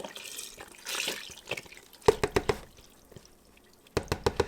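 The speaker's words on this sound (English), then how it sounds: "next I'm gonna pour in the beef broth" Beef broth poured from a carton into a Ninja Foodi pot, a splashing pour followed by glugging bursts as the carton empties, close and alone.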